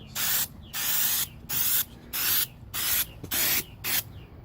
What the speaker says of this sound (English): let me get some copper weld on it.